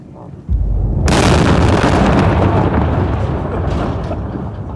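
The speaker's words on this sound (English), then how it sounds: "The Marines carry on as they started, laying down rockets to clear Pharmacy Road of IEDs" Rocket explosions fired by US Marines to clear roadside IEDs from Pharmacy Road in Sangin, Afghanistan: one huge, close blast erupts suddenly and keeps roaring in a long rumbling wash that fades slowly.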